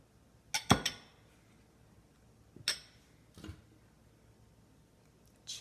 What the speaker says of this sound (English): Changing the amount of water I have in each glass